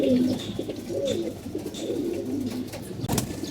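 Racing pigeons coo up close in a series of soft, low, throaty calls that repeat unevenly across a few seconds, with no talking.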